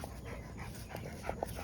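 An old dog pants quickly and steadily at close range, with a few faint whimpering yips breaking through near the end.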